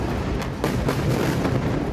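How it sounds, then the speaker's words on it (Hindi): Bombardment in Gaza outside a hospital, heard as a series of muffled, rumbling blasts at some distance, one after another over a low, noisy background. "बारूदी बारिश के बीच जान बचाकर भागते लोग, खुद को बचाने की कोशिश और एक के बाद एक धमाके।"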